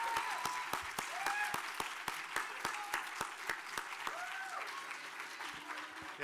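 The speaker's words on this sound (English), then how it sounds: "How about one more round of applause for all of our contestants this evening?" An audience at an oratorical contest gives the contestants a round of applause: sparse, distinct claps ring out fairly faintly, with scattered voices murmuring underneath.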